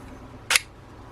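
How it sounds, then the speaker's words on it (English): A 3D printed slide wallet money holder, wood-effect and purple, gives one short crisp plastic click as a card slide is pushed or pulled, close up and alone. "it makes a good sound actually when you pull them out and push them back in"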